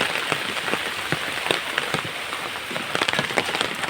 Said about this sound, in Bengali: এত পরিমাণ বৃষ্টি হয়েছে